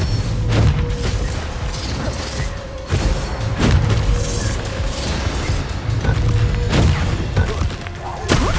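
Bombarda spell explosions in Hogwarts Legacy combat land as repeated heavy booms and thuds, loud and close, with mechanical clatter and crashing between blasts; no voices.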